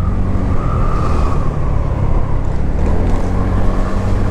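Dense, heavy road traffic rumbles steadily around a TVS Ntorq 125 scooter on a busy city road, a loud continuous wash of engines and tyre noise with no pauses.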